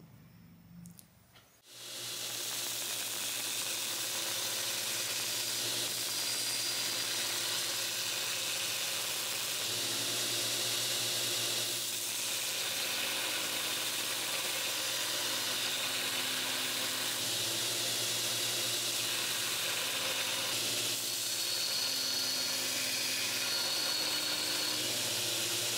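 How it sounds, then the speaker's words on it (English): A belt grinder cuts bevels into a 5160 steel EDC knife blade in a shop. The machine spins up within the first two seconds, then a loud, steady abrasive roar and hiss continues without a break. "start grinding those bevels up with the other belt"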